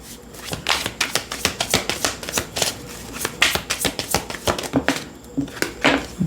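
Oracle cards being shuffled by hand, a steady run of crisp riffling snaps and flutters close up, repeated in quick bursts with brief pauses between them.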